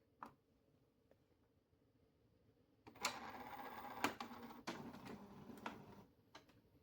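Epson printer at work printing onto a disc, starting with a few faint isolated clicks, then a louder run of mechanical whirring broken by sharp clacks and knocks, fairly close and with no talk.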